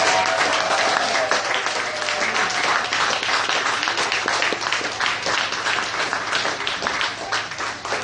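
An audience at a Startup Weekend Fairfield event breaks into sustained applause for the crowd favorite team, dense clapping that carries steadily and tapers slightly toward the end.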